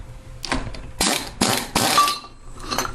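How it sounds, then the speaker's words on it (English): Metal-on-metal work on a 3.5 HP Tecumseh lawnmower engine as a three-jaw puller frees the flywheel: a close series of sharp knocks and clanks, with a few louder bursts in the middle, and no talking. "you want to tighten that bolt down so it pulls the flywheel off"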